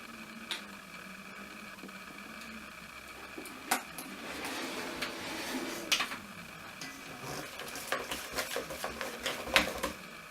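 A spoon scrapes and clicks against a bowl while stirring slime made from food colouring, Gillette shaving foam, PVA glue and bicarbonate of soda, with irregular close taps and clinks growing busier toward the end.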